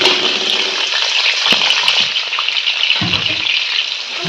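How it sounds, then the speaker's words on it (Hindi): Loud, steady sizzling of two medium onions frying in hot oil over high flame, a dense crackling hiss with occasional sharper pops, close up and without speech. "ये मीडियम साइज के 2 प्याज है, गर्म ऑयल में ऐड कर दें।"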